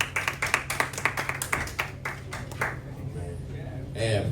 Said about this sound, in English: I appreciate the claps here